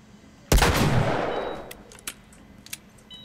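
A single loud gunshot blast in The Last of Us, a sharp crack followed by a long decaying echo, with a few faint clicks and small knocks after it and no talking.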